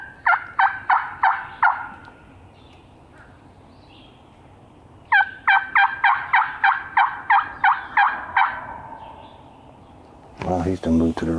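A wild turkey gobbler gobbles in bursts of rapid, rattling calls near a river during a spring hunt, two loud gobble runs separated by a quiet stretch, with a different louder sound closing the stretch.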